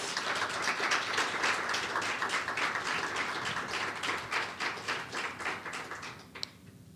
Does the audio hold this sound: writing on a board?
no